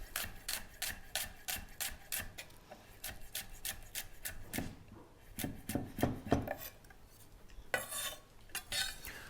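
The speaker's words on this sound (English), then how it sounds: "with long strokes we make beautiful thin strips" A knife cuts a shallot into thin strips on a cutting board with a steady series of crisp taps and slicing strokes, close and fairly quiet, with no voices.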